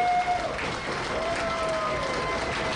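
Applause and crowd noise at a live independent wrestling show, steady and moderately loud, with a talking voice underneath.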